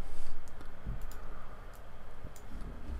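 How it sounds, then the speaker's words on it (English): Typing on a computer keyboard during a Substance Designer session, a few soft, scattered key clicks under a faint hum, close and quiet, without talk. "press space and type in output"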